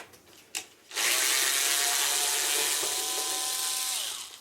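A power screwdriver backs screws out of a plastic Colonial Marines versus Aliens action-figure toy, starting with a click and then whirring steadily and loudly for several seconds close by, its pitch shifting slightly before it winds down.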